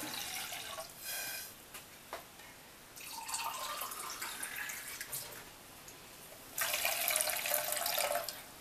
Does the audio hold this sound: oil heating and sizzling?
no